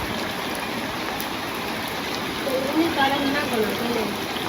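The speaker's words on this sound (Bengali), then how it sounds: "সুন্দর বৃষ্টি হইতেছে" Steady rain falls outside in a constant soft hiss, with a faint voice and a few scattered tones rising briefly partway through.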